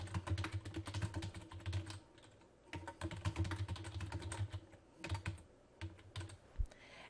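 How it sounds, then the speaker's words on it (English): Rapid typing on a computer keyboard, bursts of close, crisp key clicks with a short pause near the middle, no voices. "I'm going to type in the name of my book"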